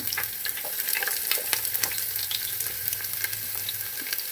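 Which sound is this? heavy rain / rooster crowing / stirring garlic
stirring garlic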